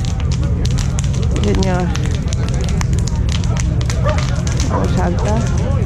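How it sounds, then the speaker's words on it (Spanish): A large bonfire at a winter motorcycle rally camp crackles and pops loudly and continuously, with someone talking over it and other voices around. "La macro hoguera, sí señor, mira cómo chisporretea ahí"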